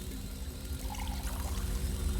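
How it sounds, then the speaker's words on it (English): Resonating fluid being poured in Elder Scrolls Online, a steady liquid trickle and gurgle over a low rumbling background, continuous and fairly close. "Now pour in the resonating fluid and get ready to move."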